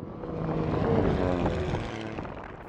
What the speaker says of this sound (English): Here's an old plane that flew overhead.